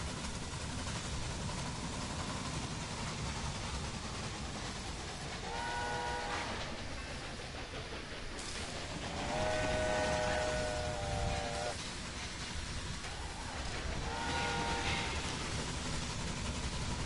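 In the railway video game Railway Empire, a train rumbles steadily with a continuous rolling roar, and its horn sounds in three sustained blasts.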